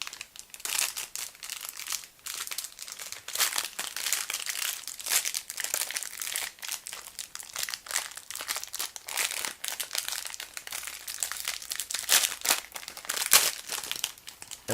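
A stiff plastic bag around a Razer wall adapter gets crinkled and wrestled open, a close, busy stream of crackling and crumpling bursts that keeps going throughout.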